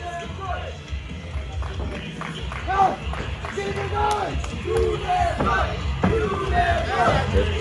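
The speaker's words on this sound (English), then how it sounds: "crowd chanting, rooting for Chaos Conspiracy" A wrestling crowd at an indoor show chants rhythmically in support of a tag team, the repeated loud group chant rising and falling steadily, with claps and yells mixed in.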